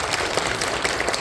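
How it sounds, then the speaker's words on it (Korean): A church congregation at a Sunday service claps warmly to encourage a departing member, a brief steady patter of many hands filling the room. "격려의 박수 뜨겁게"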